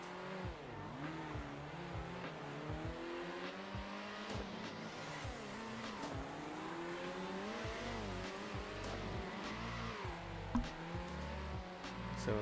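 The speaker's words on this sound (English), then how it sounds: "there's Beater doing some burnouts" A race car does burnouts in the Circuit Superstars racing game, engine revving up and down in repeated surges with tire squeal and skidding, continuous and fairly close throughout.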